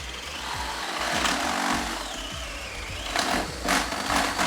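A power drill whirs steadily as it bores through a wall, the motor pitch rising and dipping with pressure, close and continuous with no talking.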